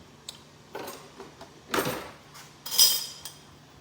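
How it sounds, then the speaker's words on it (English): Spoon clinking and scraping in a dish while stirring a honey glaze for meatloaf, a few separate taps followed by louder rattling stirs, close and with no other sound. "And then I'm going to stir it around real good"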